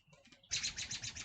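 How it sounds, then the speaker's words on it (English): Birds fighting outdoors, a burst of quick, sharp chirps repeating rapidly at close range after faint softer calls, with no talking. "I got a bird fight over here."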